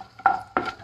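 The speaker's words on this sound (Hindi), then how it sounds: "फुल फ्लेम पे हम पहले रोस्ट कर रहे हैं।" Two quick sizzling bursts, close and moderately loud, as garlic cloves hit hot mustard oil in a pan on full flame, with a faint clink of utensils.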